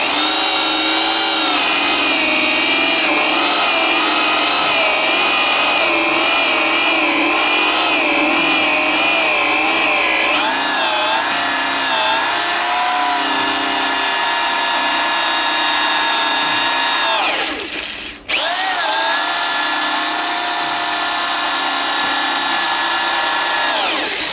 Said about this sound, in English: I'm drilling a big enough hole